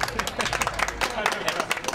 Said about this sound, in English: They love to clap in Mavyn. They love to clap.